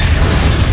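Bombarda explosion spell in the Hogwarts Legacy video game, a continuous heavy low boom rumbling loudly throughout without a break.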